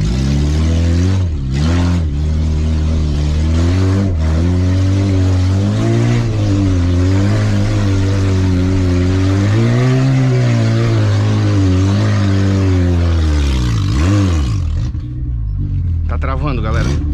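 A Fiat Palio driving with a broken, slipping gearbox, making a loud, close engine drone that rises and falls through strained revs before winding down near the end. Someone talks over the noise now and then.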